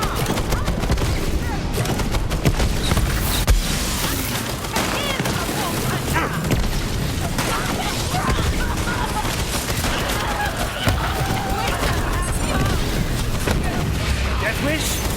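Rapid bursts of video-game gunfire from Borderlands 3 fill the whole stretch, dense overlapping shots and booms at close range, with shouted voices mixed in among the fusillade.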